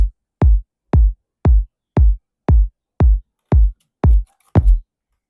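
A booming electronic kick drum for Afro house repeats ten times in a steady, even rhythm, each hit deep and punchy with a quick decay, alone.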